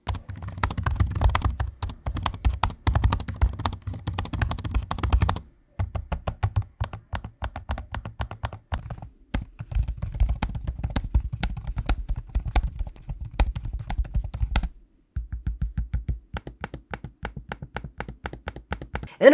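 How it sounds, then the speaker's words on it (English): Rapid, clattering laptop keyboard typing in bursts with short pauses between, close up, along with occasional sharper trackpad clicks, on an Intel Arc or NVIDIA RTX gaming laptop. "I forgot to give you a quick sample of the keyboards and trackpads in use"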